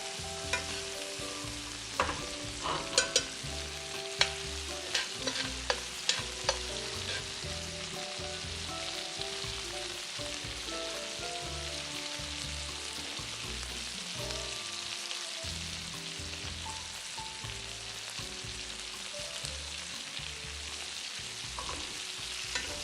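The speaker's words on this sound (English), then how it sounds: "we're going to go ahead and turn the pan, and then we're going to go ahead and baste our steaks" Steaks are basted in a tilted hot frying pan, a loud continuous sizzle with rapid rhythmic spoon scraping and clinks in the first few seconds, steady and close throughout with no talk.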